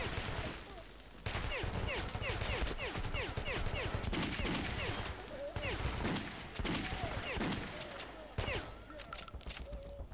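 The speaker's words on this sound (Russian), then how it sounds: "Стреляют, гады." Sustained gunfire in the video game Metro: Last Light, dense overlapping volleys with sharp cracks and metallic clinks running almost continuously at close range, with a voice speaking over them at times.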